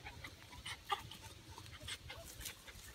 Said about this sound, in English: She's in there barking.